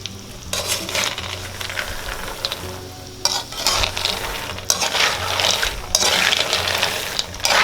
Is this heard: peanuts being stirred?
yes